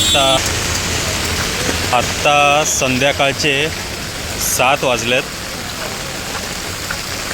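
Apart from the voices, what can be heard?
heavy rain falling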